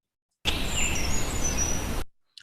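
A winter wren delivers a thin, very high-pitched, airy song in one continuous burst of rapid trills lasting under two seconds, followed by a brief faint chirp after a pause.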